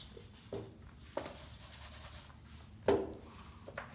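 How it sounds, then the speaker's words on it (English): A board being wiped clean in a classroom, with several brisk scrubbing strokes in separate bursts, close and fairly soft against a quiet room. "So I'm erasing it, okay?"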